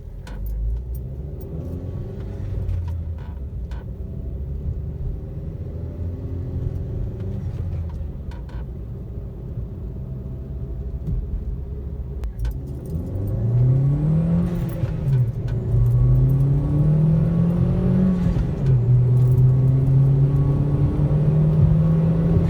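A Chevy Sonic RS 1.4 turbo with the resonator deleted rumbles steadily while driving, then rises in pitch and loudness as it accelerates, with a droning exhaust note throughout.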